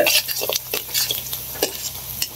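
Onions frying and being stirred in a pan, with steady sizzle and intermittent scraping strokes from the utensil, fairly close and moderately loud, no talking.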